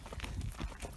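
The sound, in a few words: unshod horses walking on ground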